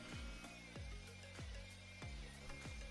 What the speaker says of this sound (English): we used a 1/2 inch drill bit to drill a hole